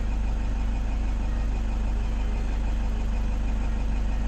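A 2010 Toyota Hilux engine idling with its check engine light on and low power, a steady low rumble with even, rhythmic pulsing, close and alone without talk.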